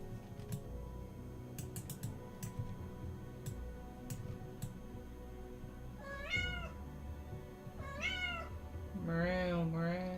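A cat meows several times in a rising, wavering pattern, each call clear and fairly close, over a steady background of soft keyboard typing and clicking.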